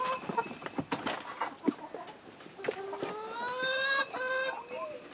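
Several chickens cluck and murmur close by in a dust bath, with a rising trill-like call near the end over soft scratching.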